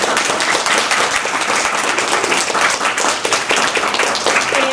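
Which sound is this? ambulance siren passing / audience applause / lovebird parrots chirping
audience applause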